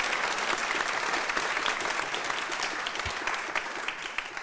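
A church congregation applauding at the end of a service, a dense, steady wash of many hands clapping that fills the room, faint voices mixed in.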